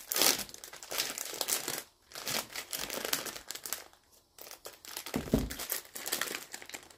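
A plastic bag of glutinous flour is opened in a home kitchen, making loud, close, continuous crinkling and rustling with brief pauses, heard alone without talk.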